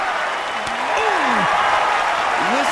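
The crowd in the WWE 2K24 wrestling game roars and applauds in a continuous wash of cheering. A commentator's voice rises over the crowd noise throughout.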